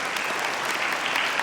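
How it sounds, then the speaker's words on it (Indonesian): An audience in an Indonesian Ramadan TV studio show gives steady applause, a dense wash of clapping lasting the whole moment without a break. "Silakan Mbak Donita, kita beri tepuk tangan sahabat jiwa."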